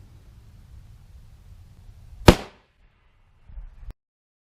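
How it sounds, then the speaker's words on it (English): A single sharp, loud gunshot from a Smith & Wesson 686 .357 Magnum revolver with a 7-inch barrel firing a 180 grain Hornady XTP hollow point, with a quick decaying echo outdoors, followed by a faint thud. "First up in the Clear Ballistics Gel Arena is the 686 7-inch barrel with 180 grain Hornady XTP hollow point."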